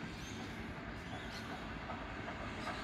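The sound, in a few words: steam train passing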